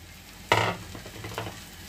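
Poha with peanuts is stirred in a frying pan, one clear scrape and clatter followed by softer stirring under a faint sizzle, close and alone.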